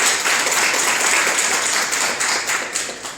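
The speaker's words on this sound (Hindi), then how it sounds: "सो एक बार जोरदार ताली हो जाए मुस्कान मैम के।" An audience claps for a guest speaker, Muskan Ma'am, at a mentoring talk on the Sustainable Development Goals. The applause is dense and sustained, then thins slightly toward the end.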